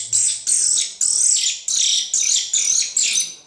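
A hunting lure call imitates a frightened bird's squeak, giving a series of about eight sharp, high, shrill squeals in an even rhythm, loud and close, with no talk over it.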